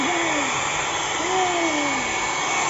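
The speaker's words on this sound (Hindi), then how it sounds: "इन्हें हेयर ड्रायर ज़रूर चाहिए बाल सुखाने के लिए।" A hair dryer runs steadily to dry hair, a loud continuous blowing roar with a wavering whine rising and falling over it throughout.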